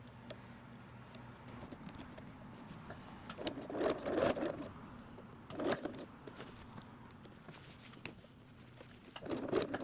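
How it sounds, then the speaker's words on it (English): Domestic sewing machine stitching through a thick coat hem while setting in a replacement zipper, a low steady motor hum with short louder bursts of rapid needle chatter near the middle and end, close and quiet. "I'm just gonna tuck it under as I start to sew."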